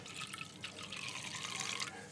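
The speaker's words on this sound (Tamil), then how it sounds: "ரொம்ப திக்காக இருந்துச்சுன்னா கொஞ்சம் தண்ணி ஆட் பண்ணிக்கலாம்." A soft, steady trickle of water pours into a container, faint and close, with no voices, while making ponnanganni keerai buttermilk thambli.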